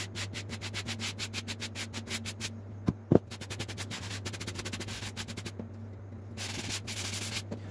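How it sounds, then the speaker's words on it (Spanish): Sandpaper rubbing across wood veneer in quick back-and-forth strokes, a rapid rhythmic scratching close up over a steady low hum, briefly pausing with a sharp knock before the strokes resume. "Yo estoy usando esta lija porque me queda cómoda."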